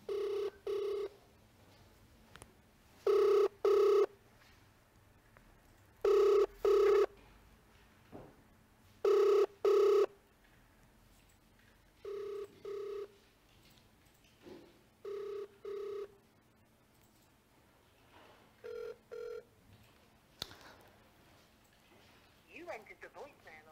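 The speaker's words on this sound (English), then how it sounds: "Phone is ringing." An outgoing telephone call rings during a sports news broadcast, with paired ring tones repeating at regular intervals several times over a quiet line and no answer.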